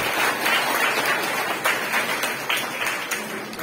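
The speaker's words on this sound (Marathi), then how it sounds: "सर्वप्रथम त्या आपल्या ताईसाठी टाळ्या वाजवा." A lecture audience claps together in brisk, continuous applause that tapers off slightly toward the end.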